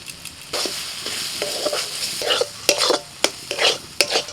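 A soybean mixture with ginger, green chillies and crushed roasted peanuts is stirred in a pan, with a steady sizzle under repeated scraping strokes that grow louder and more frequent toward the end.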